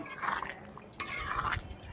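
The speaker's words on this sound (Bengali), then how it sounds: "নাড়াচাড়া করে দেবো।" Vegetarian potato curry (aloo dum) stirred in a cooking pot, giving soft scraping and sloshing sounds with a couple of brief metallic clinks, close and moderately quiet, without talk.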